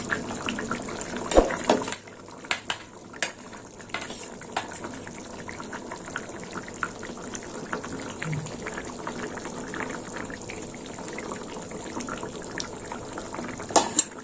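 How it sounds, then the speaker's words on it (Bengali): Prawn curry with three kinds of vegetables simmers in a covered pan, giving a steady, soft bubbling hiss throughout, with a few sharp clattering knocks near the start and end. "চিংড়ি মাছ দেওয়ার পর একটু ফুটিয়ে নেব"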